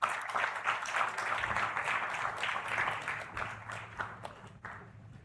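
Audience applause for actress Dia Mirza, UN Environment Programme Goodwill Ambassador, at a valedictory session, steady moderate clapping from a seated crowd that tapers off toward the end.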